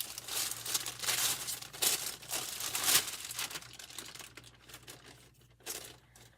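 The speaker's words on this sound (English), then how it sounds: "we're going to do a parchment paper barrier" Parchment paper is torn and crumpled up close while a summer travel cooler is put together, producing dense bursts of crinkling and rustling that fade toward the end.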